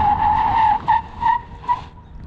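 A 2022 Genesis GV70 3.5T launching hard with loud tire squeal, a sustained screech followed by three shorter chirps as the car pulls away, no talk.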